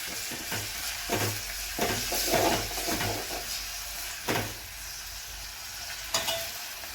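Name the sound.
stirring fish curry masala frying in pan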